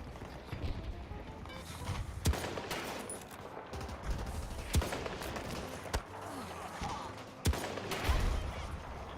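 Gunfire in a shooter video game: scattered sharp single shots and short bursts over a busy background of distant fusillade, moderately loud and spaced irregularly.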